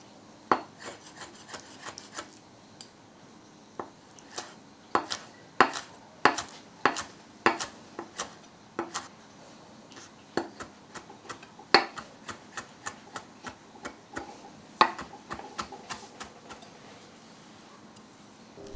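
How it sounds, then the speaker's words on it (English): Wood ear mushrooms, stacked and sliced into ribbons, take a steady run of sharp knife taps on a cutting board, close and fairly quiet, with brief pauses between strokes. "lay a few mushrooms on top of one another, slice into ribbons,"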